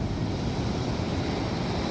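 Ocean waves break at Jangsa harbor in Sokcho, a constant low rumbling surf mixed with gusty wind buffeting the microphone.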